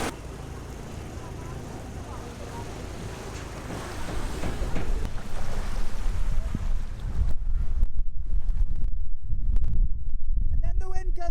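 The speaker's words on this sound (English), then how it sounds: "And then the wind comes again." Strong wind gusts during a typhoon at El Nido in the Philippines buffet the microphone in a steady roar, with heavy rumbling building louder in the second half.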